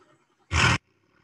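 A hippopotamus sound effect: a single loud, harsh snorting roar lasting about a third of a second, bursting from near silence and cutting off abruptly.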